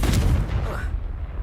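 Confringo, the fiery blast spell in Hogwarts Legacy, going off as a heavy booming burst that rumbles loudly and then fades out over about a second.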